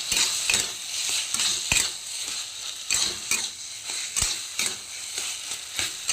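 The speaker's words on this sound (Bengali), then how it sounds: "এটাকে আমি এবারে গ্যাসটাকে একটু বাড়িয়ে দিয়ে আর একটু ভালো করে ভাজা ভাজা করে নেব" Taro greens with coconut and chickpeas sizzle in hot oil in a pan on a gas stove while a utensil scrapes and stirs in regular, clattering strokes, close and steady.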